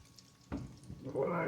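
Bacon gravy sizzles in a hot iron skillet, a soft frying crackle that swells toward the end after a clunk of the pan, close and fairly quiet.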